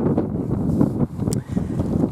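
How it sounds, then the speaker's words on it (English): Wind gusting across a caravan site near Criccieth in Wales, a steady low rumbling buffet against the microphone that dips briefly midway, with no voices. "it's a bit windy"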